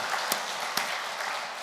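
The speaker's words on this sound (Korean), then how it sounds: "우리 옆 사람에게 고맙다고 박수 한번 쳐드립시다." A church congregation at a spring revival service gives soft, distant applause, a faint steady patter with two sharper claps standing out.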